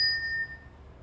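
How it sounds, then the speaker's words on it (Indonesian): A small bronze temple bell gives a single bright ding as it is set down, and the ring fades away within about half a second. "Lonceng kuil perunggu ini."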